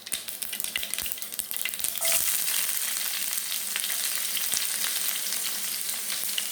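Shallots hit hot oil already crackling with mustard seeds, and the sizzle swells into a loud, dense, continuous frying hiss with scattered pops, heard up close and alone.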